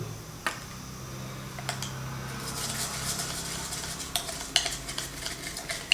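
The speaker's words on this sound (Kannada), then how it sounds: "ಈಗ ಹಾಕಿ ಅದನ್ನು ಮಿಕ್ಸ್ ಮಾಡ್ತೀನಿ" A utensil stirs rice bran oil mixed with a few tincture drops in a container, giving soft, close scraping and light clinks that grow busier toward the end, with no talking.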